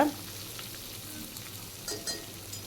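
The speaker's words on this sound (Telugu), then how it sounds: "ఒక మూడు ఉల్లిపాయల వరకు నేను సన్నగా తరిగేసుకుని పెట్టుకున్నాను వాటిల్ని వేసేసుకుని వేయించుకోవాలన్నమాట" Thinly sliced onions sizzle and fry steadily in a hot pan, a continuous soft crackle with a few brief stirring scrapes, close by and without talk.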